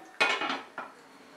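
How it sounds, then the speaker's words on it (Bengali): A lid set down on a karahi of cabbage curry with shrimp makes two or three quick, close metallic clatters within a second, then goes quiet. "দিয়ে এটাকে আমি ঢেকে দিলাম।"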